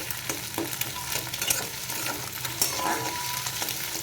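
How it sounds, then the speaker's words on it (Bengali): An egg fries in oil in a pan, being cooked until reddish-brown for chowmein, giving a steady close sizzle with scattered crackles and a few utensil scrapes and stirring knocks, no voices. "ডিমটাকে লাল লাল করে ভেজে নেব।"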